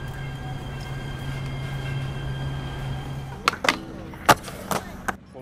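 A train rolls past with a steady low rumble, then a cluster of sharp clanks and rattles from the cars near the end, fairly faint overall.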